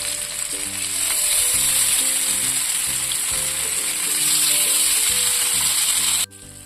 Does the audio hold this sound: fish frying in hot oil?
yes